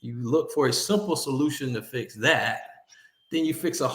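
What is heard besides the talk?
No everyday noises stand out.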